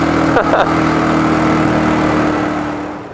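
A Royal Enfield motorcycle engine runs steadily in a loud, continuous low thrum, with a couple of brief clicks near the start before the sound tapers slightly at the end.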